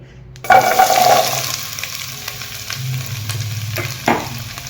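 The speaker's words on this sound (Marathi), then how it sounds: "गाजर मी याला चांगलं परतून घेणार आहे" Carrots dropped into hot ghee burst into a loud sizzle, then settle into steady frying with a few stirring scrapes and a sharper hiss near the end.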